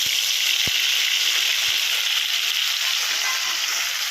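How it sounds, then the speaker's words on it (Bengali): Onion paste frying in a pan for a mushroom masala, a loud, dense and steady hiss of hot oil close by, with a couple of soft low knocks near the start. "আবার পেঁয়াজ বাটাটা দিয়ে দিলাম"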